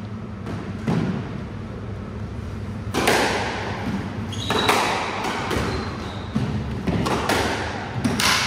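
Squash ball struck by rackets in a club league match, hollow thuds and sharp cracks echoing off the court walls at an irregular rally rhythm, moderately loud over room ambience.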